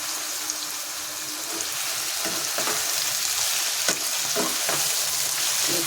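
Ridge gourd and papaya frying in a pan, a dense steady sizzle with a few stirring scrapes in the second half and no voices.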